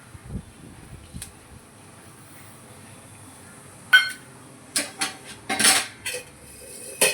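A utensil stirs spices, asafoetida and pickle masala into a jaggery mango pickle, beginning with faint scraping under a steady hum and building to a cluster of sharp metallic clinks near the end.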